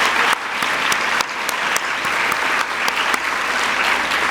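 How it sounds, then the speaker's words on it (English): A room full of people applauding award recipients at a distinguished alumni awards ceremony, sustained even clapping with a few sharper claps standing out, loud and close. "Can we give them all another round of applause?"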